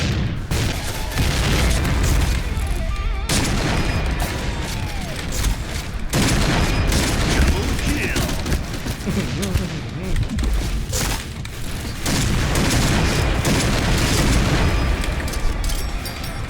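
Dense, continuous bursts of video game gunfire and booming explosions, loud and chaotic, with brief sharp breaks between barrages.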